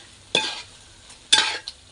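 Two short bursts of loud sizzling as food is stirred in a hot pan, each fading quickly, with quiet pauses between.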